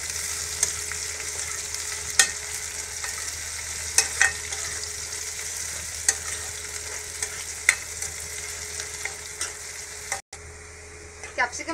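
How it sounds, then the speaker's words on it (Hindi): Capsicum sautéing with onion in a pan for a cheesy pasta snack gives a steady, even sizzle of frying, with a few sharp clinks of a spoon stirring, heard close and without speech. "अब इसमें हम कैप्सिकम डालेंगे और इसको भी 2 to 3 मिनट्स के लिए सॉटे कर लेंगे।"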